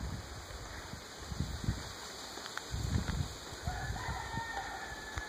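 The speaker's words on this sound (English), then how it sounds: "Roosters." Roosters crow in the distance over outdoor ambience, a couple of drawn-out calls near the end amid faint clucking and rustling.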